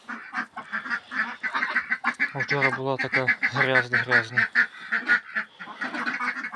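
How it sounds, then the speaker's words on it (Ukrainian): A flock of ducks quacking loudly and continuously nearby, overlapping calls with someone talking over them in a farmyard. "Ну в цілому вже всі качечки вимилися."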